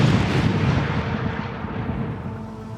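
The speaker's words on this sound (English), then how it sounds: "There was a bit of a countdown and then the big bang." A massive deep blast from a house demolition explosion opens with a rumbling roar that slowly fades over a few seconds, heavy and close.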